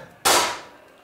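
A single close, sharp crack from an air rifle fired at a moving target during sport shooting, a sudden loud snap that fades quickly into quiet.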